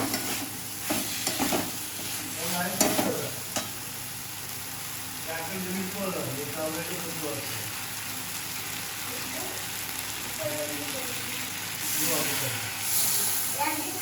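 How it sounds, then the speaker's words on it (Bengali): Prawns stirred into a pan of pointed gourd, a spatula scraping and clattering over a continuous frying sizzle, with a voice talking over parts of it. "চিংড়ি মাছটা আমরা এর মধ্যে দিয়ে দিলাম ভালো করে নেড়ে নেব"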